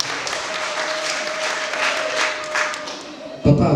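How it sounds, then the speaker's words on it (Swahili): An audience at a charity aid handout for widows and orphans claps together in a sustained burst of applause. The applause is loud and steady for several seconds, with a sharper clap near the end. "Makofi kwa JP."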